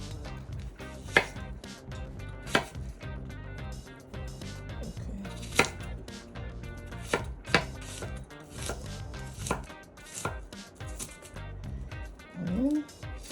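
Knife chopping an onion on a board for sugar-free coleslaw, with crisp, close, irregular cuts, several sharper louder strikes standing out, over a low steady background.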